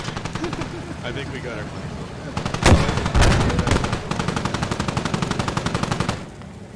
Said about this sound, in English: tank shooting at the enemy half now. BMP2 shooting at the enemy half.